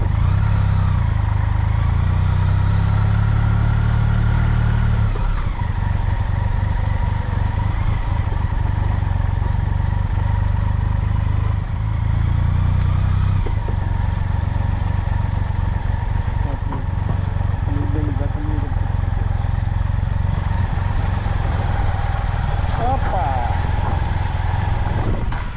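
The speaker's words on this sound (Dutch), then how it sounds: "en zo parkeer je je motor op een grote parkeerplaats in Spanje" Motorcycle riding slowly into a large parking lot in Spain and pulling into a space, close engine rumble with shifting revs and pauses, a voice speaking briefly over it.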